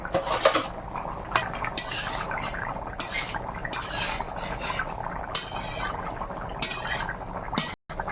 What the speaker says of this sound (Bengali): বেগুনগুলো এবার এতে দিয়ে দেবো